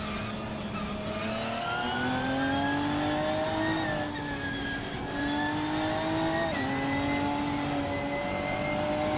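A 1999 Honda Civic Si racing engine holds a loud, continuous drone, its pitch rising and falling through gear changes and throttle lifts, close and steady throughout with no talk.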